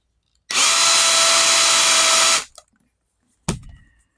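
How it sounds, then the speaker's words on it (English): A cordless drill runs steadily at high speed for about two seconds while making holes in leather for a wallet, stops, then gives a brief second burst close by. "We're using a cordless drill."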